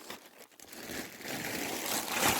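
Plastic bag of frozen meat crinkling and rustling as it is pulled out, a close, irregular crackle that builds louder toward the end.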